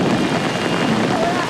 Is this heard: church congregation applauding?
no